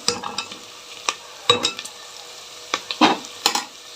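A spoon stirs carrots, potatoes and other vegetables in a pan for sago khichdi, giving short, close scraping strokes and light clinks spaced about every half second over a faint background sizzle.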